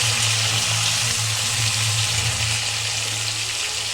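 Chopped tomato frying in a pan with onion and potato already fried, giving a continuous close, even sizzle with a low steady hum beneath, with no talking.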